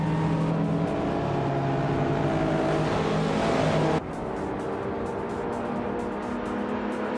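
Retro slow-class race cars, including a 1982 Lancia, roar together at Dust Bite Speedway in a racing video game, a steady loud engine drone that drops abruptly partway through, with no talk.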